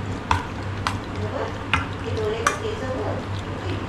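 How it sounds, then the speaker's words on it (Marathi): Chicken popcorn marinade with vinegar is mixed by spoon in a bowl, giving several sharp, evenly spaced clinks and wet squelching stirs, close and moderately loud over a low background hum. "आता आपल्याला चांगल्या प्रकारे हे मिक्स करून घ्यायचं आहे"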